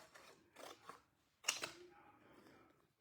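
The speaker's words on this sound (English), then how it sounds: "am going to take a pair of long-handled scissors whenever I'm going to cut something like this" Long-handled scissors cut through fabric in a few quick, crisp snips and rustles, close and quiet, followed by a brief soft shuffle.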